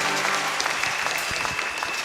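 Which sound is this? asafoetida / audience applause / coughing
audience applause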